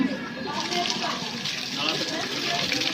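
Water gushes under strong pressure from a supply pipe feeding a village settlement: a steady, loud, hissing rush that continues unbroken throughout, with no clear speech.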